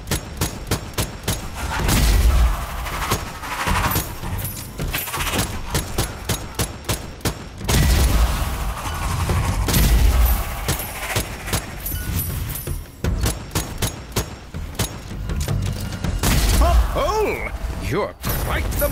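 Pistol gunshots in Strange Brigade on PS5, repeated sharp cracks and rapid volleys throughout a busy combat scene, loud and dense, with voices talking over parts of it.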